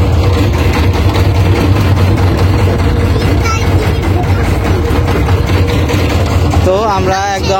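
A boat engine idles steadily at a river ghat, a loud continuous low rumble running throughout while people talk over it.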